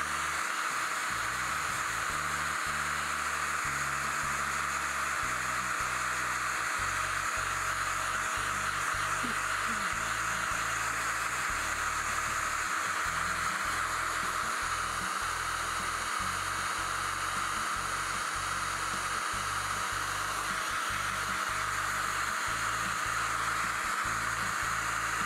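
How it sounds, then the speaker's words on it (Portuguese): Hair dryer blowing over a first coat of paint on a faux-tile napkin box, a loud, steady hiss of rushing air that runs unbroken, with faint low thumps from handling underneath. "Seca com secador rapidinho."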